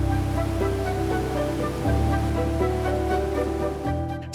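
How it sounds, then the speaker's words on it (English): Atlantic Ocean waves surging inside Fingal's Cave, a dense, continuous wash of rushing water with low rumbling swells booming against the stone walls, loud and unbroken. "Waves from the Atlantic Ocean constantly surge inside."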